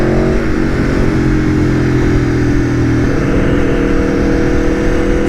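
An Aprilia Tuono V4 1100 motorcycle engine with a quick shifter, a loud steady roar under way with pitch shifting through the gears, mixed with wind buffeting.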